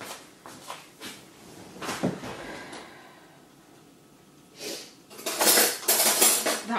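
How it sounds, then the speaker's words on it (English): A spoon scrapes seeds out of a halved fresh marrow in a kitchen, with a few light scraping strokes and clinks, a quiet pause, then a louder run of scraping and knocking near the end, close and without talk. "we'll get a spoon and we'll scrape out the seeds"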